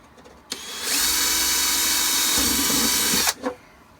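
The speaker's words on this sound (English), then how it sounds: "Drill another hole here." A power drill whirs steadily for about three seconds as it bores a pilot hole in a Shadow Trooper armor build, starting and stopping abruptly, close by with no talking.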